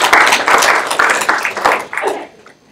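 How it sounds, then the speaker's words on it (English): Short round of applause at a student government meeting, a small group clapping loudly and close in a few bursts before fading out quickly. "So just round of applause to congratulate them on all of those."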